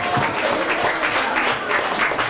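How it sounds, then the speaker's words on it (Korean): Guests at a Korean first birthday party give a round of steady applause, a dense crowd of clapping hands at medium distance that carries evenly through the moment. "여러분 박수 주십시오."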